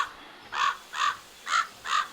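Four loud crow caws in even rhythm, about half a second apart, from a video game with no voices over them.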